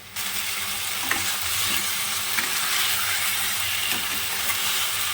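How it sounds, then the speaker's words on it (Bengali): Fried potatoes being stirred with spices in a pan for biryani, a constant close sizzle with occasional scraping stirs and no talking. "এবার ভেজে রাখা আলুগুলো দিয়ে মশলার সঙ্গে কষাবো।"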